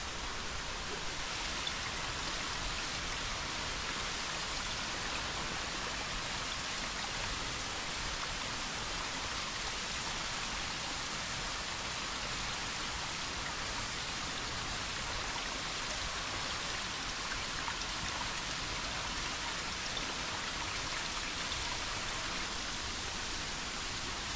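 Ambon-Ambon waterfall in Calamba, Laguna, producing a constant, even broadband roar of falling water that stays unchanged throughout, with no voices.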